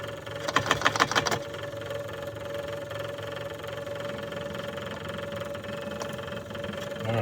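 A diesel engine with a suspected fuel pump problem running roughly at idle, a close, uneven chugging drone with a brief louder burst of knocking near the start.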